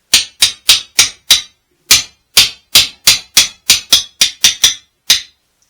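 A lead ball is tapped into a gun muzzle through an aluminum bar on a workbench. About fifteen sharp, close metallic taps come in an uneven rhythm, sometimes quick and sometimes spaced, with no talk.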